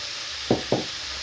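Vegetables frying in olive oil for paella, a close, steady hiss of sizzling fat with two quick stirring knocks in the middle and no voices.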